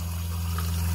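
Drinking water running from a tap aboard a yacht, a steady, close, soft stream with a low hum beneath it, brief and without talk.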